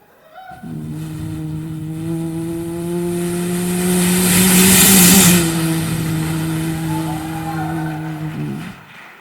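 A human voice imitates a KTM motorbike passing by, a steady droning engine tone that swells louder toward the middle and fades away over about nine seconds, performed solo as beatbox.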